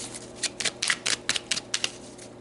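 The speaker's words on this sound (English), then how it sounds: "All right, let's pull some more cards." Oracle cards being shuffled and pulled by hand, a close run of quick papery riffles and flicks in an uneven rhythm, with no talking.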